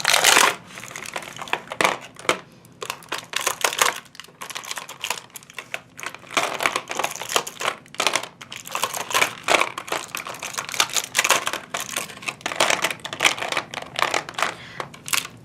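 Plastic markers clatter and click as they are packed into a small plastic case from Daiso, a dense, continuous run of close rattling taps and knocks with no talk.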